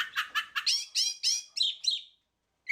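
A mockingbird sings a quick series of bright, clear chirps and warbled phrases, about eight notes in a row, close and alone, then stops.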